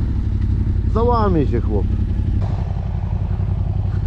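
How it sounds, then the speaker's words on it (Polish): A Yamaha Raptor 700 quad running on a swapped MT-07 engine rumbles steadily close by in fresh snow, while someone speaks briefly over it and a short rising whistle-like sound cuts in early. "Maszyna odpalona."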